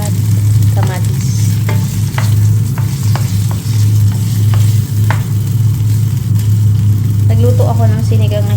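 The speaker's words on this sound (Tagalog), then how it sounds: "gisa na natin ang sibuyas, bawang, luya at kamatis" Onion, garlic, ginger and tomato being sautéed in a home kitchen in the Netherlands: a steady, loud sizzle over a low hum, with occasional sharp utensil taps against the pan.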